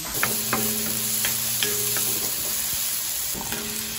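Squid for adobong pusit sizzling steadily in a pan, loud continuous frying crackle broken by several sharp scrapes and clinks of stirring, no voices.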